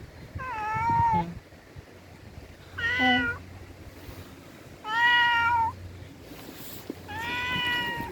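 A tethered cat at a Jeju Island shop meows four times in drawn-out, wavering cries spaced a couple of seconds apart, fairly close, with quiet background between calls.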